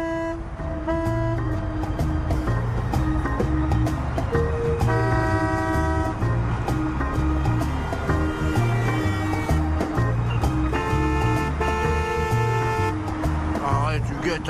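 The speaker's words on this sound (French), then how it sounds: "ils klaxonnent tout le temps" Loud car horns honk repeatedly on a Paris street in overlapping toots of different pitches, layered over a dense rumble of traffic.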